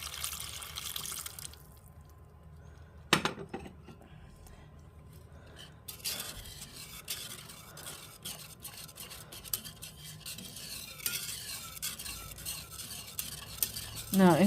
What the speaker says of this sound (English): Now, I'm going to add a little more broth.